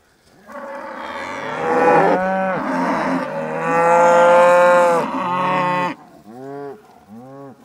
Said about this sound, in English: Those are moos of love.